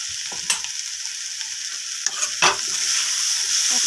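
Lentil mix with cumin powder and meat masala powder sizzles steadily in a hot pan, with a few sharp scrapes and knocks of a spoon stirring it against the metal.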